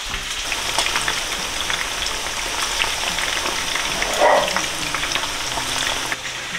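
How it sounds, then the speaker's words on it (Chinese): Flour-coated pork ribs for sweet and sour ribs deep-fry in hot oil, a dense, steady crackling bubble that stays loud and even throughout. "准备开始炸排骨"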